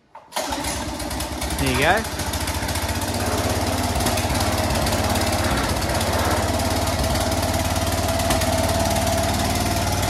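A Rover Colt Major lawn mower engine is pull-started, with a quick rising rip of the cord, then catches and runs in a steady, loud, close chugging drone. Someone speaks briefly over it.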